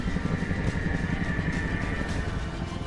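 A Chinook helicopter used to ferry troops and supplies to forward posts near a mountain border, its rotor and engine roar steady and loud throughout, a continuous throbbing drone with no pauses.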